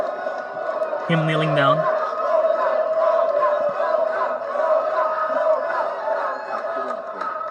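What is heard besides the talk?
crowd cheering at a live trivia event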